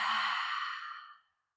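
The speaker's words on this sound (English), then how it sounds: "Biggest exhale." A single long, deep exhale released through the mouth during a morning breathing exercise, breathy and soft, fading out over about a second with no talking.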